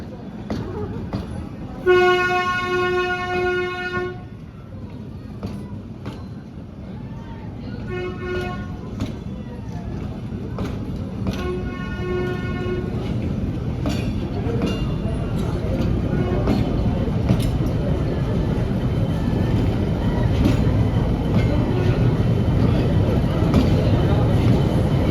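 The Ooty toy train rolls steadily along the mountain rails, its horn tooting in three bursts over a continuous rumble of wheels and carriages that builds toward the end, with a voice talking faintly in the background.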